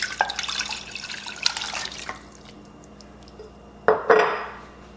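Canned meatball bean soup with greens pours from a glass jar into a cooking pot, giving a few seconds of clinking and wet sloshing, a quieter pause, then a louder final splash and scrape near the end.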